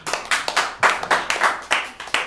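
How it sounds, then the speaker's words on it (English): A small audience at a live show at the Hideout claps in a handful of short, uneven bursts, with distinct loud slaps rising and dying away in quick succession. "Clap your hands if you've been here before."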